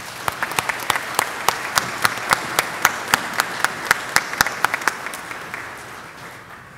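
Steady, rhythmic applause at a Georgia Highlands College commencement ceremony honoring an award recipient, loud regular claps in a large hall that thin out toward the end.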